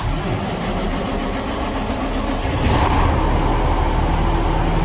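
A semi tractor truck's engine is started up close and loud, a rough churning roar that swells noticeably partway through as it catches and settles into a steady running rumble, with no one talking.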